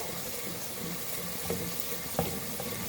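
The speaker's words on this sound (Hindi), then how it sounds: "प्याज और जिंजर गार्लिक पेस्ट को हम मीडियम फ्लेम पर फ्राई कर रहे हैं।" Onions and ginger garlic paste frying on a medium flame in a clay pot, a steady soft sizzle with a couple of faint clinks of a spoon, fairly quiet and without talk.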